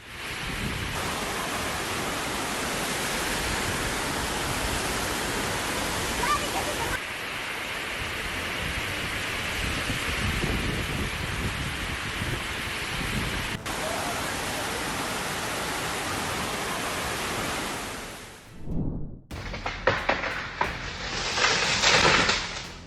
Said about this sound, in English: In Madrid, raging floodwaters swept away vehicles and created chaos in the streets